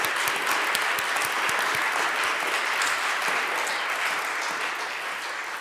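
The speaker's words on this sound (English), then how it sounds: "let's give another round of applause for our spies and warriors and kings and queens" Sustained, dense applause from an audience at a Faces of History event honoring performers in costume as spies, warriors, kings and queens, loud and steady throughout before tapering slightly at the end.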